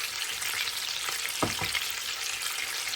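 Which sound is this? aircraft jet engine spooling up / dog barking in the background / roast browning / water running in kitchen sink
roast browning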